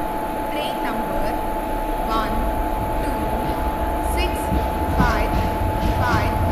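A train in a train simulator game departing an Indian railway platform, a steady rumbling engine drone with a sustained tonal hum, heard alongside a station announcement voice and faint chirping background sounds.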